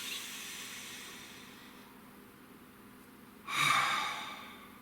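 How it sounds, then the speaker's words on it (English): A single deep breath: a quiet, airy inhale through the first few seconds, followed by a louder, breathy exhale close to the microphone. "Nice deep breath for me."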